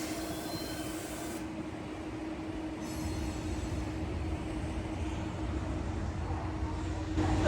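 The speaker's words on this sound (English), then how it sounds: "Look at all this train action." Two freight trains and two commuter trains moving on tracks during a meet, a steady low rumble and rolling wheel noise heard from a distance, building slightly toward the end.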